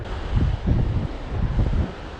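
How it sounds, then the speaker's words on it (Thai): Strong seashore wind buffets the microphone in loud, rumbling gusts, with surf faintly under the roar and no speech. "ลมแรงไหมลมแรงจริงๆ"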